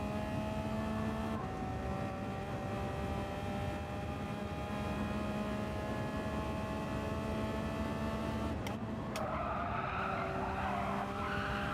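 Race car in Gran Turismo 7 at Michelin Raceway Road Atlanta, a Porsche engine droning steadily while tires skid and squeal through a corner, continuous and fairly loud with a brief shift near the end.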